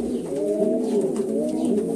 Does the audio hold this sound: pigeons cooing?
yes